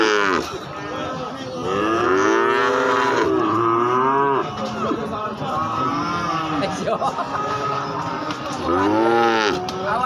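Several long, loud moos from Limousin and Simmental cattle at a cattle market follow one another closely, some overlapping, with faint crowd chatter in the background.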